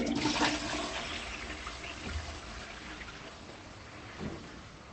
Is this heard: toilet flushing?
yes